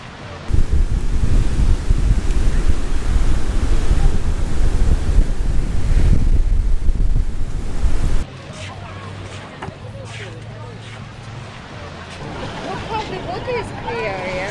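Ocean surf and wind roar loud and steady at the Naples, Florida beach pier, then drop to a softer wash of water with faint rustling.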